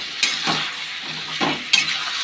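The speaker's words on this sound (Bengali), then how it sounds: "তো এটা এখন ভালো করে কষিয়ে নিই" Vegetables with green chillies are stirred and sautéed in a pan, with soft sizzling under a few separate scrapes and clinks of the spoon against the metal.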